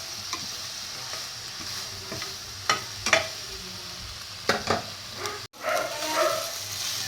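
Tuyo, dried fish, fries in the oil it releases in a pan, giving a steady close sizzle and crackle. A spatula scrapes and knocks now and then, and a dog barks faintly in the background.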